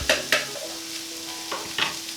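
Jackfruit fajita mixture sizzling in a pan after liquid seasoning is poured on, a soft steady hiss with a few sharp clinks and scrapes and a faint hum underneath.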